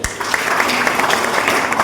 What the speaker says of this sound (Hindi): आइए हम सब इन पूर्व सैनिक वर्ग को सम्मान देते हुए इनके लिए जोरदार तालियां बजाएं।